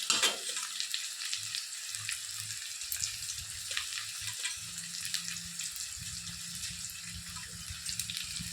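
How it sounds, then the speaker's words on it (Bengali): Onions fry in hot, bubbling oil, a fairly quiet, steady sizzle and crackle with soft low clatters underneath and no speech. "পেঁয়াজটা মনে রাখবেন সবসময় গরম ফুটন্ত তেলেই পেঁয়াজ দেবেন"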